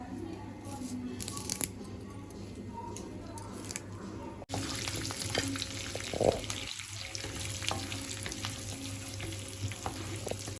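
Spices like cumin, mustard seeds, crushed garlic and dried red chillies frying in oil for a tempering: a quiet crackle that swells into a brighter, steady sizzle with faint popping, under occasional soft speech.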